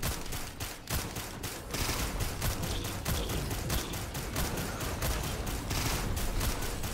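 Rapid gunfire in the video game Risk of Rain 2, a dense, continuous stream of fast shots firing without pause, steady and fairly quiet throughout.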